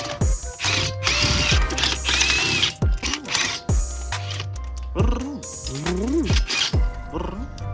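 Loud, rapid bursts of a pneumatic impact wrench removing car wheel nuts rattle repeatedly, with the tool whirring up and down in short runs in a garage.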